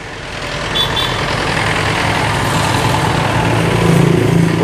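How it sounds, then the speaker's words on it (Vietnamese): Heavy afternoon traffic on a busy road, with trucks passing close in a loud continuous engine roar and rumble that swells toward the end, and a faint high beep early on. "Buổi chiều xe cộ hơi đông bà con thông cảm giùm em nha, nó hơi ồn tí."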